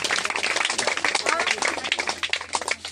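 Loud, continuous applause from a large audience at a religious prayer gathering, dense clapping sustained for the whole stretch with some voices mixed in.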